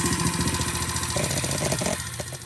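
A 125cc ATV engine runs steadily after a jump start, with a carburetor that sticks, giving a close, continuous mid-pitched idle with slight unevenness and no voices.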